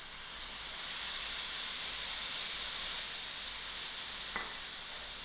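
Tomatoes cook in a hot pan for mutton curry with a loud, steady, unbroken sizzle and steamy hiss that holds throughout, broken once near the end by a brief utensil clink.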